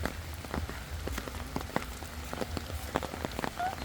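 Steady rain falls over a village in Raghunathpur, Sirajganj, a continuous soft patter with scattered louder drips striking nearby surfaces.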